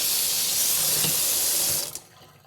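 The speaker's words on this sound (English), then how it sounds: "I want to wash that out really good with soap and water" Water from a kitchen tap pours steadily into a sink, a loud continuous hiss that cuts off abruptly near the end, leaving a few faint drips.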